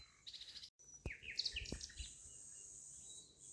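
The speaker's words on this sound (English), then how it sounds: "In the hedgerow, a mixed flock of small birds drifts through." A mixed flock of small birds chirps and tweets in quick, scattered bursts in a hedgerow, fairly close, with a faint insect-like buzz in the background.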